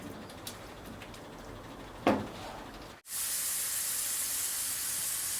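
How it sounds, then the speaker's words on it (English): Cut-up rashers of streaky bacon fry in a pan in an outdoor kitchen with a soft sizzle, then a sudden hard cut into a louder, steady hiss that fills the rest of the moment. A single faint click sounds partway through. "we've got 6 rashers of streaky bacon that we've cut up. And we're going to fry this off until it's nice and crispy."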